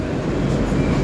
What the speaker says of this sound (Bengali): ঠিক টাইমেই চলছে কিন্তু ট্রেন।